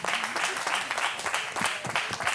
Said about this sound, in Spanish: venga, venga, un aplauso para Nube de María que entra.